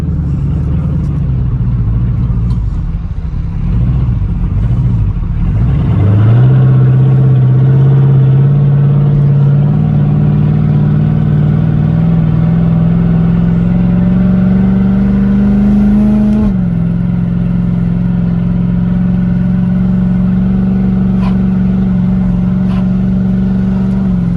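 A twin-turbo 2019 Chevrolet Camaro ZL1 with a TH400 transmission drives along, its deep engine note droning loud and steady, rising in pitch through a long pull before dropping with a shift and settling again.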